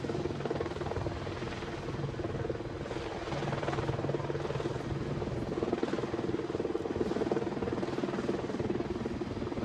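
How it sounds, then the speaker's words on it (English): An AH-64 Apache attack helicopter hovers at the Farnborough Airshow, a steady loud rotor and turbine drone that swells slightly over several seconds with no voices over it. "you can see the helicopter's amazing hover performance"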